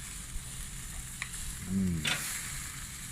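Bacon cheeseburger patties sizzling in a pan just after being flipped, a low steady hiss with a short spatula scrape and a brief low voice-like murmur midway.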